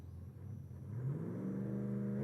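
A Commodore drag car idles low at Sydney Dragway, then its engine note climbs and holds as it's revved hard on the trans brake, a steady loud drone with a rising pitched whine.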